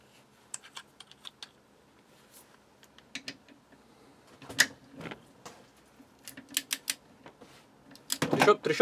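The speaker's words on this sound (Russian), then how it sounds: "Трещотка работает." A KING TONY torque wrench ratchet clicks in scattered short bursts, quiet at first, then louder and denser toward the end, close by.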